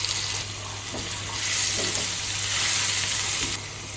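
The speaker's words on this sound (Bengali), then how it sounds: "পাশের চুলায় কড়াইতে তেল দিয়ে দিয়েছি দিয়ে দেবো পেঁয়াজ কুচি আর মরিচ দিয়ে দিয়েছি শুকনো মরিচ দিয়ে দেবো ছোটো করে রাখা রসুন" Chopped onion, dried chili and small pieces of garlic fry in hot oil in a wok on a stove, a loud steady sizzle that swells midway, with faint stirring clinks and no talk.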